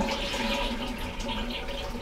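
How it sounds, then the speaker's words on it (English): A futuristic Korean toilet flushes with a continuous rushing, gurgling swirl of water, close and moderately loud, steady for the whole short stretch with no talking. "keep an eye on this while I flush the toilet"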